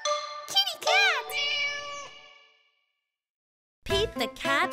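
A cartoon cat meows in a children's animated read-aloud, two rising-falling meows close together and loud, a pause of silence, then more meowing calls with a voiced quality.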